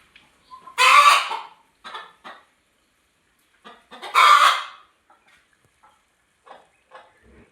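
A broody hen sitting on eggs clucks in two loud, close bursts with softer short clucks scattered between, no voices present.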